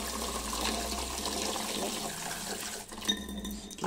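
Running water splashes steadily as a baking pan is washed with soap, continuous and close, with a few clinks and a brief pause near the end.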